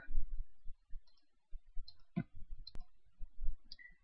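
Several soft, close mouse clicks scattered over a few seconds, one sharper snap standing out, made while clicking a sign-up button on a computer.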